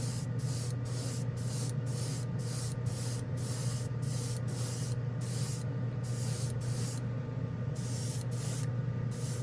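An airbrush sprays OdenKan Final Chrome silver paint in a steady close hiss, broken by short regular pauses as the trigger is released and pressed again.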